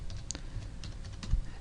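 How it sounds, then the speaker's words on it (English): Keystrokes on a computer keyboard while entering a mail server address, a short run of light, quiet taps with one firmer press near the end. "I'm going to type in my ID at the server"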